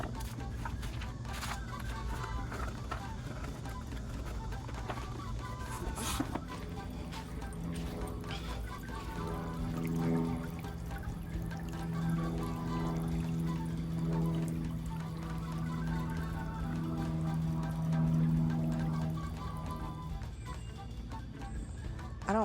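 Water spraying from a solar fountain nozzle in a planter, a steady splashing trickle running the whole time, close and moderate, with a faint tonal hum partway through.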